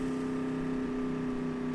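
A car engine in a driving video game roars loud and steady, a constant droning hum with a strong buzzing tone that holds without letting up.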